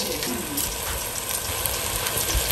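Battered vegan calamari rings fry in hot oil, giving a dense, continuous hiss and bubbling crackle, close and fairly loud, steady throughout.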